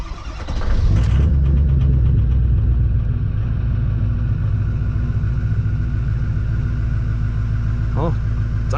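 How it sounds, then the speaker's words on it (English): A Ford 6.0 diesel engine idles steadily and loud after starting, a continuous low rumble that still runs slightly rough from air in the fuel system, with a brief higher sound near the end. "Oh, it's idling"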